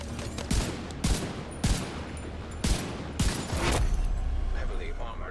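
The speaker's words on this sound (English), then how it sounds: "aided by my auto turret, which is a sniper rifle" An AI-controlled auto turret sniper rifle in The Division 2 fires about six evenly spaced loud shots, each with a sharp crack and rumbling tail, over steady background game noise.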